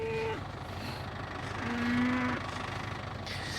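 Cattle low on a farm, a single drawn-out moo near the middle over a steady low engine rumble, with a shorter call at the start.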